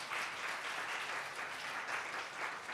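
A church congregation at a Sunday worship service bursts into sustained applause, a dense steady wash of many hands clapping with gentle swells, no voices on top.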